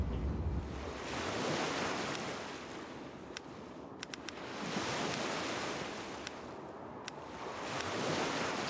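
Ocean waves roll in near a campfire and tent in Savage Lands, with steady surf swelling and fading in slow cycles and a few faint clicks over the wash. No one speaks.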